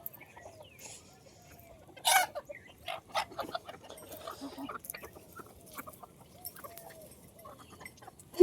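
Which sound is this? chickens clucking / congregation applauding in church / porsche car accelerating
chickens clucking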